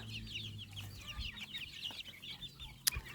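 Cochin chickens clucking softly in grass, a mix of low murmuring clucks and higher chirps from a small flock close by, with faint rustling and one sharp tap near the end.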